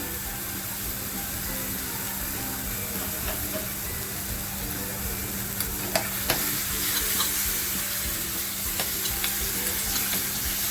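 A spiced tadka with turmeric for batata vada sautés in hot oil, hissing and sizzling continuously at close range, with scattered spatula scrapes and clicks toward the end and no speech.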